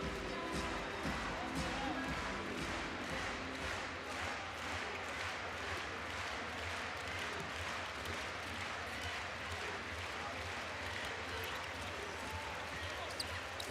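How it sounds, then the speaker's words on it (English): A handball arena crowd cheers steadily during a Denmark vs Croatia men's EHF EURO 2014 semi-final, rhythmic clapping pulses running under continuous commentary. "Now they're cheering them on"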